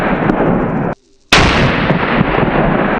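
A single loud rifle shot from a custom 30-06 Tikka T3X Superlite during an Australian fallow deer hunt, a sharp close crack after a moment of silence, trailing into a rolling echo over steady outdoor noise.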